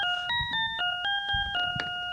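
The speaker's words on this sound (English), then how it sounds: "Isn't that Mike's ringtone" A phone ringtone plays a bright, repeating electronic melody of short stepped tones, close and clear, with faint background noise underneath.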